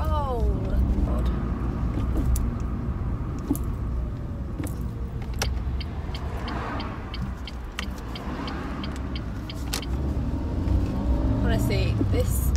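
Car with manual clutch driving along a bumpy village road, a steady low engine and road rumble throughout with occasional knocks and rattles from the cabin, close and continuous, with brief vocal sounds over it.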